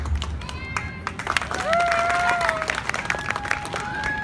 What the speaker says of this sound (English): And every time she says, ta-da, applause in the audience will happen.